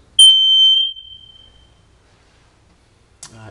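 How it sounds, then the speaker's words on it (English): A hallway smoke detector is tested, giving one loud, piercing high beep that rings on and fades, followed by quiet room tone and a faint rustle. "Smoke detector works."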